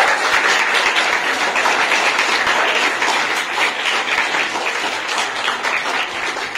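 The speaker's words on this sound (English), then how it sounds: "Clap for yourself because you helped a friend." A group of school students claps for themselves in a classroom, a dense, steady patter of many hands that carries at an even level throughout with no talking over it.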